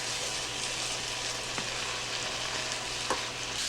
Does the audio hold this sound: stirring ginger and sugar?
yes